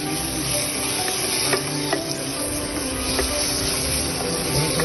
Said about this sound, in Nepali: अब मसला चलाउनु